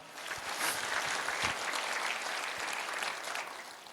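Church congregation applauding for the Lord during an Easter sermon, a dense, sustained wash of many hands clapping, fairly distant and even, fading slightly at the end with no speech over it.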